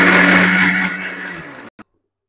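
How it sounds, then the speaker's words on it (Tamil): A mixer grinder grinds coconut and curry leaves into a paste, a loud, steady whirring roar that slowly eases, then cuts off abruptly, followed by a brief knock. "இப்போ தேங்காயும் கருவேப்பிலையும் நல்லா மைய அரைச்சிக்கலாம்."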